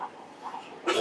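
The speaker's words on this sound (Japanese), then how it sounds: "思わず咳込んでしまい" A single short cough, close and fairly soft, with a brief louder burst at the end.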